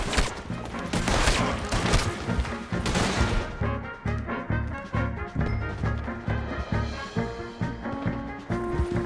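Gunfire in Red Dead Redemption 2: a heavy volley of shots at first, then a run of separate sharp reports repeating at a steady pace, close and fairly loud.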